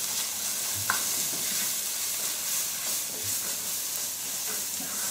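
Chicken curry sizzles steadily in a pan while it is stirred, a continuous close frying hiss with a few soft scrapes and no talking.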